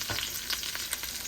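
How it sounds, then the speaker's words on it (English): Salmon frying in a pan with garlic butter gives a short, steady, close crackling sizzle with a few faint stirring touches. "Back over here at this salmon, I just added in the garlic butter."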